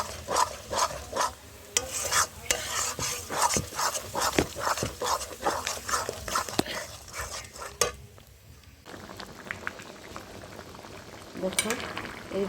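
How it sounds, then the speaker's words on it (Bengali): Bottle gourd leaf paste with cumin and ginger paste fries in oil, giving a bubbling sizzle broken by repeated scraping stirs, fairly faint and close, with a quieter pause near the end. "এই দেখো বন্ধুরা এখন এটাকে আমি তেলে ভাজা করব।"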